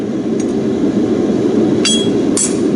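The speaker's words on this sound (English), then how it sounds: "Now I'll punch the rest of my nail holes." A horseshoe gets its nail holes punched, giving two sharp, ringing metallic strikes close together near the end, with a fainter tap earlier, over a constant low background hum.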